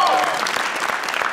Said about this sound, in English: Another round of applause for our celebrity guest, ladies and gentlemen